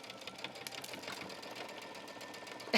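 A sewing machine stitching a denim shirt dress, a fast, even mechanical whir with a steady rapid chatter close by, running unbroken and quiet until a brief louder bump at the very end.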